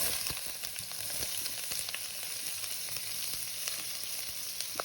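Onion frying in hot oil in a pan, giving a steady, dense sizzle that crackles close up throughout, no talking.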